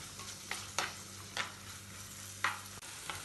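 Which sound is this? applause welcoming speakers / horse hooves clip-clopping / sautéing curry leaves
sautéing curry leaves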